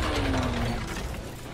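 Grinder machinery in The Clone Wars animated series, a dense churning mechanical grind with ratcheting, gear-like clatter, loud and steady throughout the short stretch, with no voices over it.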